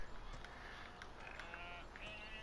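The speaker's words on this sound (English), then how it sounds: "This is where your sheep will be, and you do have some static sheep here" Sheep on a farm in Farming Simulator 17 bleat faintly in a short string of calls over a steady hiss of background ambience.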